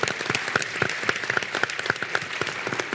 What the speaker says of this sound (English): Let's give a round of applause to our moderator